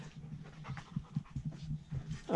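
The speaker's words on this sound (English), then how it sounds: "What's up, big dog?" A big dog pants rapidly and close by in a rhythmic stream of short breaths, with a faint whimper near the end, at an abandoned mine cabin.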